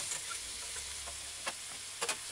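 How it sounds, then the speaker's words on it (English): A jerk burger sizzles steadily in a frying pan, a soft continuous hiss broken by a few faint pops and crackles. "Don't press the burger while it's frying"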